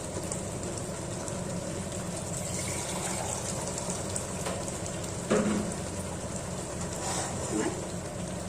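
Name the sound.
hot water being poured into the palak paneer curry pan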